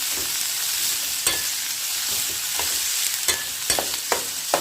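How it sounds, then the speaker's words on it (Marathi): Spring onion greens frying in hot oil in a pan, a steady close sizzle with occasional sharp clicks and scrapes of stirring scattered through, no voices. "कांदा पात तेलात भाजून घ्या"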